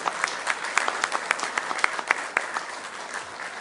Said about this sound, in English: How about a bigger round of applause